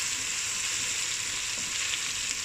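Garlic and ginger frying in a pan as a base for butter chicken, a steady, loud, close sizzle with a constant hiss and no break, with no talking.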